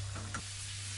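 Homemade french fries frying in hot oil and stirred with a spoon, giving a soft steady sizzle with a brief scrape of the spoon near the start, faint and close with no talk.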